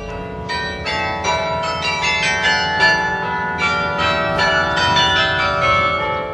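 Carillon bells ring out a played melody, struck notes sounding one after another in a lively rhythm with long overlapping resonance, clear and moderately loud.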